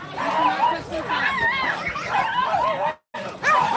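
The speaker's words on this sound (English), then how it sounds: "It's the attack chihuahuas." Several small chihuahuas yap and bark in quick, overlapping bursts at an outdoor RC car bashing event, close by and mixed with constant chatter and talking, with a brief dropout near the end.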